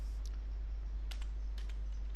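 A few soft, sparse keystrokes on a computer keyboard, faint clicks scattered over a steady low electrical hum.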